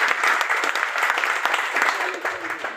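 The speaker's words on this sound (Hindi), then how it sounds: "प्लीज उनके लिए जोरदार ताली" Audience applause at a Hindi-language motivational business gathering, a dense steady clatter of many hands clapping together at close-to-mid distance, holding evenly for a few seconds with faint murmurs mixed in.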